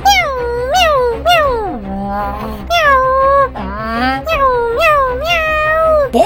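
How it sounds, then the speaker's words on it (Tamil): A house cat meows loudly and repeatedly, long wavering yowls and cries following one another at close range, while a voice joins in at moments. "அந்த வீட்டுல இருக்கிற பூனை திடீர்னு கூரை மேல பார்த்து கத்த ஆரம்பிச்சிருச்சு"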